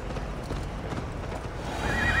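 Horse hooves clip-clop at a gallop in the video game Assassin's Creed Valhalla, a rapid drumming rhythm under a broad rushing wash, with a brief whinny-like tone near the end and no speech.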